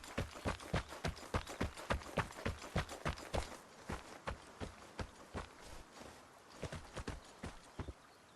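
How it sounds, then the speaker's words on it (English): Footsteps in the Vigor online survival game, a steady run of close, crisp steps with a clip-clop-like rhythm that keeps going for several seconds and slowly fades out. "Thought I heard some footsteps there."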